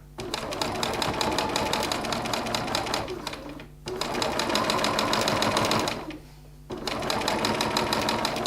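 A sewing machine stitches steadily along the edge of a zipper on a zipper pocket, a fast close mechanical whir running in three long bursts with brief pauses between them.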